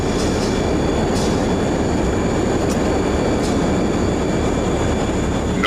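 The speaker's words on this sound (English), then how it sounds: "Podcast 1, you're cleared for takeoff." An airplane takeoff effect makes a loud, continuous engine roar that stays steady throughout, with a few brief high whines layered on top.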